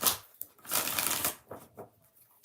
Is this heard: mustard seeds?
no